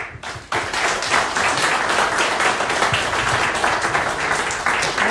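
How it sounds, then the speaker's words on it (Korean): Sustained applause from an audience at a Korean election campaign event, dense and steady clapping filling the whole stretch after a brief quieter start. "좋은 말씀을 해주신 우리 김종인 총괄위원장님께 뜨거운 박수 보내주시기 바랍니다"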